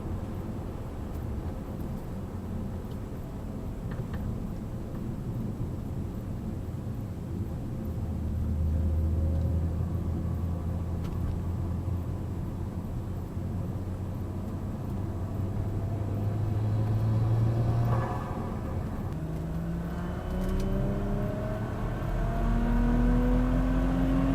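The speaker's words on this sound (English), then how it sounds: "I'll try to get some pulls, probably like third gear pulls" Saab 9-3 Turbo X with a Mamba wastegate accelerating hard in third gear, its engine note rising steadily through the rev range, then a brief drop at the shift and another rising pull, heard from inside the cabin with steady road rumble and no talking.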